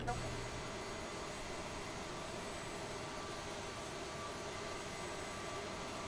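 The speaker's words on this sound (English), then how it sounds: "Let's go ahead and fire up engine number 1." A CRJ 550 jet engine spooling up during start in a flight simulator, a low, steady whine and rumble at moderate level that holds constant after a brief bump at the start.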